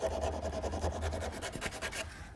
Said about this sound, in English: I'm using a piece of 80 grit sandpaper to finish shaping.